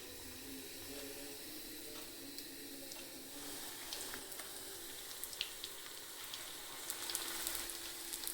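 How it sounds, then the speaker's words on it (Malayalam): Egg bajji, eggs dipped in batter, frying in hot oil in a Kerala-style kitchen: a steady, soft sizzle and bubbling crackle runs throughout, with faint clinks near the end and no talking. "ബജിക്ക് വേണ്ട എണ്ണ ഒഴിച്ച് കൊടുക്കാം. നമുക്കിത് മുട്ട നമുക്കിതിനകത്ത് ഒന്ന് ഡിപ്പ് ചെയ്തതിന് ശേഷം നമുക്ക് ഇട്ട് കൊടുക്കാം."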